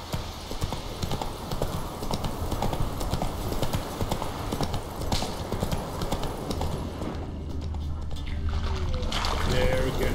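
Roach the horse galloping in a video game, steady clip-clop hoofbeats carrying loud and close throughout, with a rumbling, wind-like background that thins out near the end.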